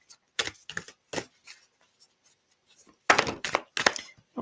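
Heart-shaped oracle cards being shuffled by hand, a series of dry papery riffles and soft taps in two bursts separated by a quiet pause, close and fairly loud with no talking.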